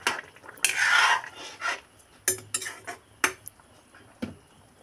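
A spoon stirs a potato, tomato and fish curry in a metal pan, giving close, irregular scrapes and clinks in short bursts with brief pauses, no voices.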